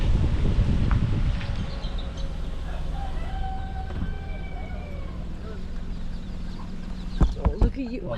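A hen with many chicks clucks close by beside a road in Bali, with soft repeated clucks and chirps over outdoor noise and a low vehicle rumble. People talk in the background.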